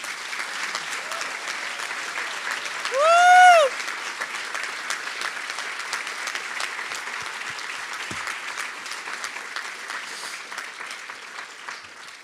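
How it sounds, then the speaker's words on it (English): Awards ceremony audience giving a long, steady round of applause, dense clapping filling the room throughout with a brief shout or whistle partway through. "let's give her a round of applause"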